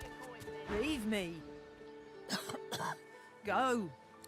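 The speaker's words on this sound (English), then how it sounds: "She bends over double in a violent coughing fit." A female character in the Divinity: Original Sin 2 video game doubles over in a violent coughing fit: three clustered bursts of harsh, voiced hacking and throat-clearing, close and fairly loud.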